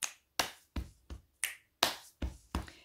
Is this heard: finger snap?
yes